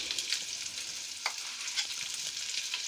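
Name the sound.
beef steak bites frying with butter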